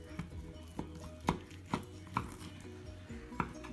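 A knife cuts through smoked competition ribs on a board, giving a run of close, sharp chopping knocks spaced unevenly, about six firm strikes with quieter scrapes between them.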